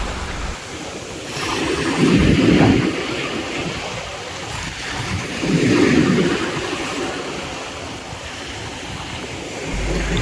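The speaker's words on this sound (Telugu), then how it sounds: "రామేశ్వరంలో ఉన్న ఇంకో బీచ్ ఇది." Ocean waves at a beach in Rameswaram roll in as two broad surges of surf about four seconds apart, under constant wind buffeting the microphone.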